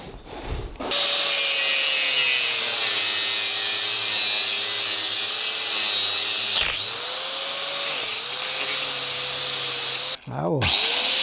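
A power tool cuts through the linkage bolts on a Fordson tractor: a loud, continuous grinding whine that sags in pitch under load and holds for about ten seconds, then breaks off briefly near the end.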